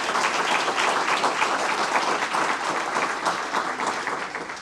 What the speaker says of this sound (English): Please give him a round of applause, even though he's not here.